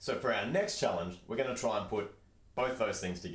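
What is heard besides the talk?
None of the usual background noises is heard.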